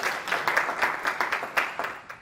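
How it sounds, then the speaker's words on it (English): Audience clapping for a panel at a diversity in STEM session, a short burst of steady applause from a room of people, with repeated swells of claps and no voices. "Let's just give them a round of applause."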